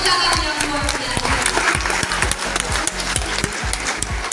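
Rhythmic clapping from a crowd at a job fair and launch ceremony at SMK Negeri 2 Kolaka, loud and steady throughout with brief overlapping voices.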